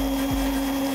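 A pedal-driven polishing brush works compound into an embossed punch cup, giving a steady whirring hum with a constant tonal drone, close and continuous.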